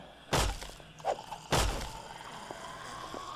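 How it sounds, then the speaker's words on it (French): Two loud, sharp shattering crashes of a concrete edge breaking with a glass-like sound in the video game 7 Days to Die, separated by a smaller knock, each trailing off quickly. "C'est bizarre, leur bord en béton, il fait un bruit de verre cassé."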